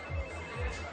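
A phone rings with a repeating electronic tone in two quick pulses, close and fairly loud, with no voices.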